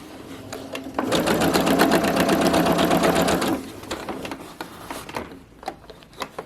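A sewing machine stitches a basting line a quarter inch along the bottom to hold a pocket against bag lining, running fast and loud for a couple of seconds before stopping, followed by light handling noises.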